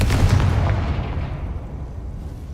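A Confringo fire spell blast in the video game Hogwarts Legacy lands as one loud, booming explosion right at the start and rolls off into a long, rumbling decay with no voices.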